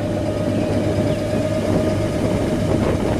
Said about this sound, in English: Let me listen to the little exhaust note.